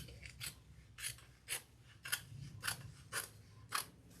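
Scissors snip through the fabric end of a handbag being sewn, making about eight quiet, rhythmic cuts at a steady pace, close by, with no talking.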